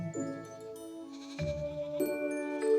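Goats grazing on a coal-mining slag heap bleat in a few drawn-out, wavering calls, close and clear, one after another.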